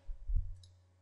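A single short mouse click on the Start button of the Handbrake video converter, with a soft low thud and a faint high tick, heard alone in a quiet room.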